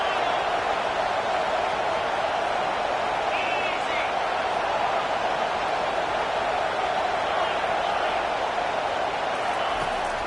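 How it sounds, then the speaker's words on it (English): Stadium crowd in an American football video game roars steadily behind a defense on third down, a dense, constant wash of noise that stays loud and unbroken throughout. "Decibels rising as the crowd gets behind this defense on third down."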